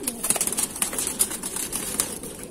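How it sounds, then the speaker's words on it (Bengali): Madrasi pigeons held close, soft throaty cooing mixed with quick bursts of wing flapping and rustling, fairly loud and near. "এটা একটা মাদি পায়রা"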